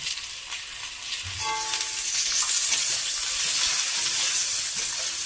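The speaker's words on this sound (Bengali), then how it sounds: "ভেন্ডিগুলো একটু মশলাটা আবার ভেজে নিলাম" Okra and potatoes fry in a pan with turmeric, salt and spices, giving a steady close sizzle with faint stirring scrapes underneath.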